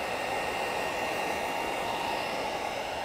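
A heat gun warms the edges of tint film on a 2020-2025 Kia Telluride taillight. It gives off a steady, even rush of blown hot air, heard alone and unbroken throughout.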